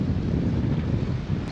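Steady wind rushes past the microphone aboard a sailing catamaran at sea in the rain near Dominica, a continuous low roar with no breaks.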